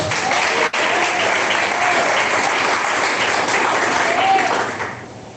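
Loud, sustained applause from a crowd fills the whole stretch, steady and dense, fading slightly at the very end.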